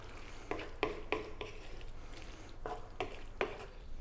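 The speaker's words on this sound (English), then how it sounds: "1 more mix, job done" Final stir of lamb curry in a pan, with soft scraping strokes in an uneven rhythm over a faint, steady simmering hiss, heard quietly and close.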